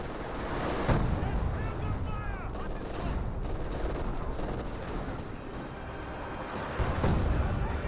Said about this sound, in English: See a priest barrage here.